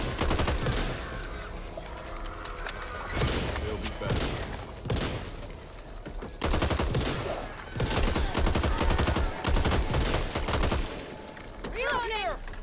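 Gunfire from Back 4 Blood comes in repeated loud bursts, clusters of rapid shots separated by short lulls over several seconds, mixed with game noise and scattered voices.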